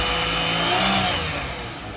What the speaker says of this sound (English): We can see that as we rev the engine